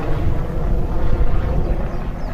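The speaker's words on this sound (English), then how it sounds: "There's a helicopter above," Two helicopters pass overhead near the entrance of Kukaniloko by Wahiawa on Oahu, giving a loud, continuous low rotor rumble that fills the moment without talk.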